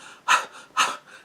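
Heavy, rhythmic breathing from the score of the 2024 film Babygirl: two strong, close, breathy pants with softer exhales between them.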